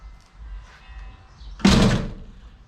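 A 1966 Ford Galaxie 500 convertible door swings shut with one solid, close thunk and a brief rattle after it, heard over quiet room noise with no voices.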